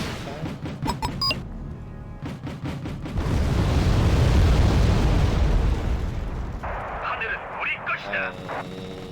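Artillery in Wargame: Red Dragon, a Cold War strategy game: a heavy rumbling barrage of explosions swells and fades over several seconds, with sharper pops and scattered battle sounds before and after.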